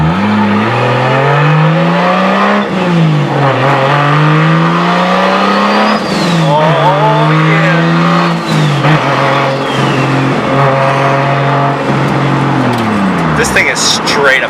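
A Nissan 240SX with a big-turbo 2JZ-GTE engine revs and drives, loud and close, its pitch climbing and dropping repeatedly as it pulls through the gears.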